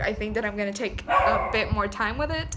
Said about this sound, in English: I am sorry that my dog is barking.